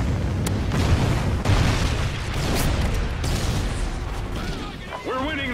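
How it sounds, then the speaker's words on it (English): A Trinity rocket explosion in a shooter video game booms repeatedly in a dense barrage of heavy blasts and rumbling, with a voice speaking briefly near the end. "Friendly Trinity rocket inbound."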